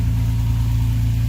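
A Toyota Tacoma idling with a Magnaflow 18 by 6 inch round muffler, stock front exhaust and a broken-off tailpipe, giving a steady, close, low rumbling drone with an even pulse and no talk.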